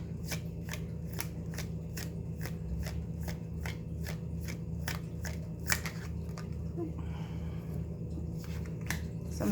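A deck of small message cards is shuffled by hand, a close, rhythmic series of crisp riffling flicks at an even pace that continues throughout with a light background hum.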